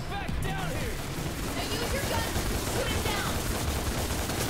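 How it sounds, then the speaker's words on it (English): Rapid gunfire from Dante's pistols in the action game DmC: Devil May Cry, a dense continuous volley of shots during a fight with a demon, with voices talking over the combat. "I was using my guns anyways"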